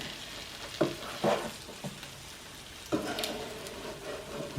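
Eggs sizzle on a hot sandwich press as a utensil pushes them around, producing several short scraping strokes over a soft, constant frying hiss.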